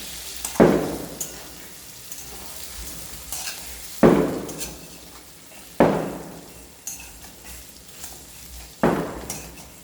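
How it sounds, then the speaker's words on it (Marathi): Masala frying in a pan with stuffed bitter gourd: a steady, quiet sizzle broken by five sharp clinks and scrapes as the gourds are turned. No one talks. "असे पलटी करून देते, मसाला तळते."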